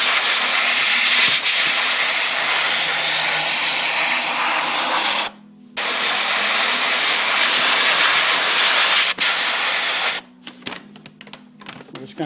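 Continuous airy hiss of an airbrush blowing air over fresh paint on a Dodge Magnum, briefly cut off twice, then sputtering in short bursts near the end.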